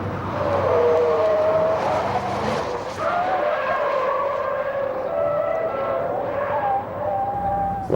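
Nigel Mansell driving a Cadillac on exploratory laps of a racing circuit: a loud, continuous engine drone with rising and falling gear tones and squealing tires, held close throughout.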